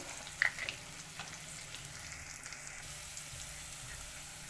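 Onions fry in hot oil in a pan for vegetable upma, a soft continuous sizzle with a brief sharp crackle near the start, faint and close, no talking.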